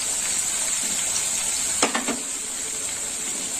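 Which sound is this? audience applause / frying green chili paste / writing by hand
frying green chili paste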